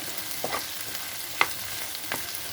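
Small pieces of raw sweet potato and vegetables frying in a pan, a steady soft sizzle with a few sharp clicks of a utensil against the pan.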